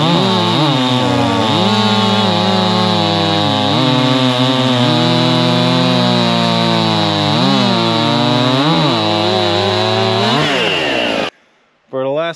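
Chainsaw cutting through beech wood, comparing a Stihl MS261C with a Garwinner saw, the engine roaring loud and close under load with pitch dips as it bites, then cutting off briefly near the end before restarting.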